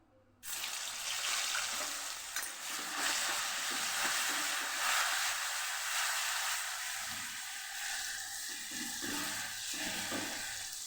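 Asafoetida and ginger-garlic paste hit hot oil for a Kathiyawadi karela-onion dish and set off an abrupt, loud burst of sizzling. The frying hiss stays close and continuous, easing only slightly over about ten seconds, with no talk.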